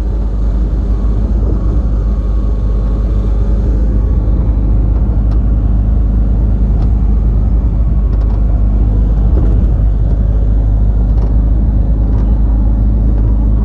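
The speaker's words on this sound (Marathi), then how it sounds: "समोर ब्रिजवरून येणाऱ्या गाड्या बघू शकता." Traffic crossing a bridge on the Mumbai-Goa road near Vadkhal, a steady loud rumble of cars and engines with passing vehicles blending into a continuous roadside drone.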